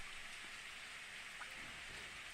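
Steady rain begins falling in a Steins;Gate scene, a soft, even hiss of drops on surfaces with no other sound over it.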